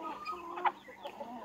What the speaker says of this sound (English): Junkyard chickens.